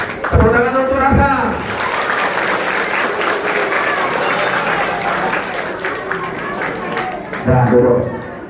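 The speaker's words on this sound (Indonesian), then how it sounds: "Tepuk tangan untuk rasa" A classroom of elementary school children claps for a classmate, a dense burst of applause that runs steadily for several seconds with a teacher's voice speaking over its start and end.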